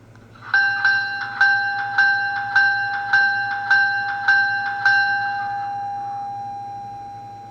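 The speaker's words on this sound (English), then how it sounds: "let's briefly go over some sounds of this locomotive. This is the bell." A model Pennsylvania Railroad GG1 locomotive's DCC sound decoder bell clangs close and loud, about ten evenly spaced strikes, then its ringing tone slowly fades away on its own.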